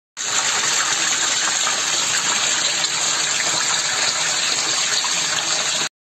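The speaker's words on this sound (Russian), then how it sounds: "Вода все так же хлестала." Water gushes hard and without a break from a burst pipe into a basement, a loud, dense rush that holds steady and then stops abruptly.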